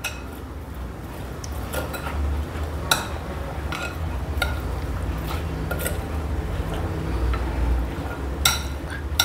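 A spoon clinks and scrapes against a bowl while chana chaat ingredients are mixed, giving repeated sharp metallic taps over a soft, squishy stirring sound, close and steady with no talk.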